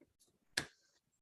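A single sharp clap rings out at the close of an online graduation session, loud and close, followed by a short decaying tail and then quiet.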